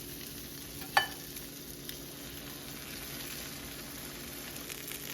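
Eggo waffles dipped as cinnamon French toast fry in a pan, giving a soft, steady sizzle with one sharp clink near the start and a faint tap a moment later.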